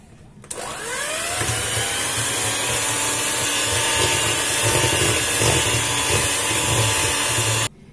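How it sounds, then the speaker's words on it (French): An electric whisk beats butter into a pale whipped mixture for apple cookies with a sudden motor start, then a loud, steady whirring hum and soft rhythmic thumps against the bowl, heard close until it cuts off. "Et on va venir fouetter notre beurre."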